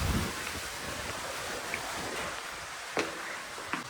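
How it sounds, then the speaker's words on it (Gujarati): A swimming pool at a farmhouse fills with water, giving a continuous broad rushing wash with a few small splashes and knocks, and no talking. "હજી અમારું સ્વિમિંગ પુલ ભરાય છે, જો હજી ભરાય છે અહીંયા બધું પાણી"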